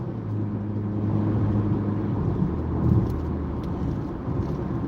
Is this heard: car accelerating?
yes